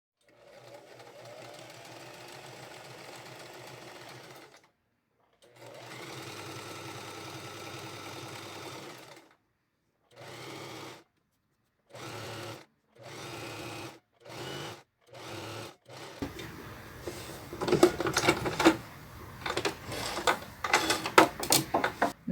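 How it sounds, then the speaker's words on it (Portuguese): A sewing machine stitches a seam on a sleeveless blouse in a long steady run, then a pause, another long run, and several short bursts, ending with louder clattering handling noise near the machine. "agora eu vou retirar os alfinetes e costurar com a largura de um pé de máquina de fora a fora aqui"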